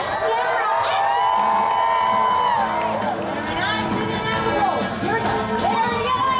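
A live audience at an animal actors show at Universal Studios cheers and whoops for Team Blue, a dense, loud crowd roar with children's shouts rising and falling.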